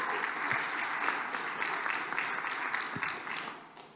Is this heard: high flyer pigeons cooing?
no